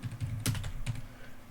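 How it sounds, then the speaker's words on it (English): Keys tapped on a computer keyboard while entering a gcc compile command, a quick run of close clicks with two sharper strokes standing out, close and moderately loud with no talking. "I'm gonna type in the command"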